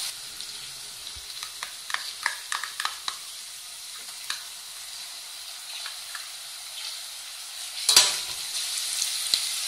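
Onion and ginger garlic paste sautéing in a pan for quail egg gravy, a faint, thin sizzle with scattered spatula clicks early on and a louder burst of hissing near the end.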